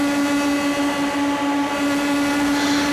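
A race car engine in iRacing drones steadily with a strong, even whine during a TNT Shock Series race at Gateway, loud and unbroken for a few seconds.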